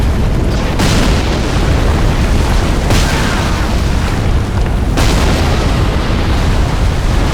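Heavy, booming blasts roll through a Dark Souls III battle as a Carthus sandworm attacks, three loud impacts standing out over a constant dense rumble.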